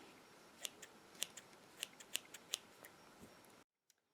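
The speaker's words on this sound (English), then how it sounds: "take a sharp pair of scissors and just trim off any excess fluff or stray hairs that are sticking out" A sharp pair of scissors snips excess fluff and stray fibres from a needle-felted sleeping fawn, a series of small, crisp clicks close by in a quiet room, ending in silence.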